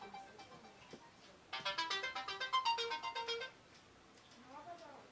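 Telephone ringtone playing a quick repeating electronic melody for about two seconds, loud and close, with quieter speech before and after it.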